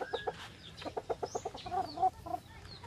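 A fighting cock at a rooster-viewing village in the Philippines clucks in short rhythmic bursts, close and moderately loud, with a few higher squawks toward the end.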